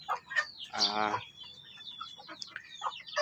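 A small hen clucks nearby in a breeding pen, giving a loud burst of throaty clucks followed by softer, scattered chirpy calls.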